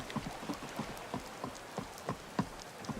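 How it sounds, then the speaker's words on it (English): Steady rainfall in Skyrim, soft patter of drops landing on surfaces with a faint regular ticking, quiet and alone with no talk. "Raining."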